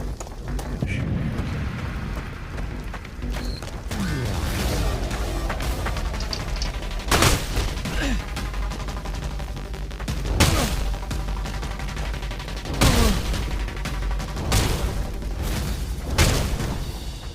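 Enemy gunfire in the VR combat game Blade and Sorcery, several sharp loud shots spaced a few seconds apart over a continuous rumbling background, with faint voices.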